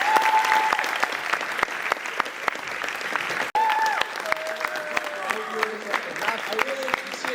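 A student audience claps after a class president's speech in a school setting, a sustained round of applause under which a speaker's voice talks, with sharp individual claps standing out.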